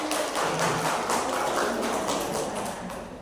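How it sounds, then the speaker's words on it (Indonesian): An audience at an Indonesian curriculum-training session applauds, a dense, steady wash of many hands clapping that holds for the full few seconds and thins slightly at the end. "Aplaus dulu buat beliau."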